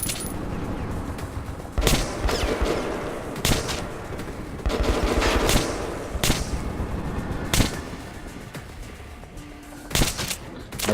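Enemy gunfire in the video game Metro 2033 Redux: sharp, loud bursts of shots crack out at irregular intervals over a low rumbling background, some single and some in quick clusters.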